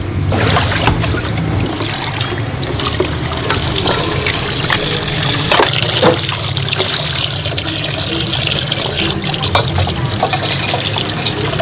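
Pork skin rinsed under running water while preparing bún mọc in Hanoi: a steady trickle and splash that continues without a break at close range, with a faint hum of background activity.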